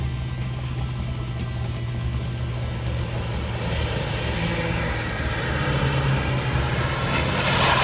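A car engine rumbles steadily nearby and grows slightly louder and rougher as the vehicle pulls up in a hurry. The motor hums alone with no voices.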